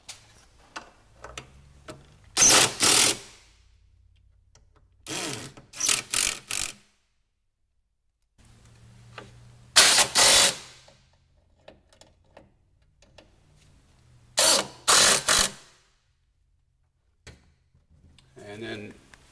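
Ratchet tightening the mounting bolts of a Pro-lite running board on an Arctic Cat ProClimb snowmobile, heard as three bursts of rapid close clicking separated by pauses, with talk in between.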